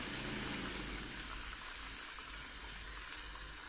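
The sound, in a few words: chicken and yogurt frying in a karahi pan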